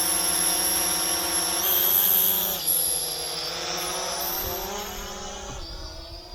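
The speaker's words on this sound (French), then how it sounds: "le son classique des petits moteurs brushed" Small brushed motors of a ZLRC SG907 Pro drone whine as it takes off, a loud close high-pitched buzz whose pitch steps up and down as throttle changes, without speech.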